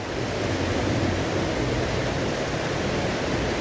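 Heavy rain pours down over a lawn, a dense, even hiss of falling water that holds steady and loud the whole time with no talking.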